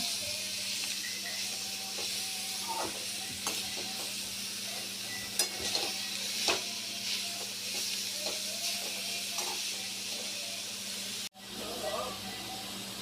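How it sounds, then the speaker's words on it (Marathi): Sliced beetroot stir-fried in a pan for a Marathi-style vegetable dish: a steady, soft hiss and sizzle with faint scraping and stirring clicks, ending in a brief gap of silence. "त्याच्यामध्ये हे बीट टाकायचं सगळं बघा हे परतून घ्यायचं"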